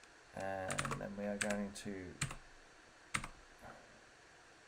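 Keys on a computer keyboard click in a few sharp taps while setting up Vue.js with Laravel 8, with a person talking over most of the typing.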